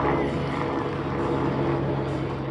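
A helicopter passes over a baseball field as a loud, steady rotor and engine drone that fills the whole stretch without a break.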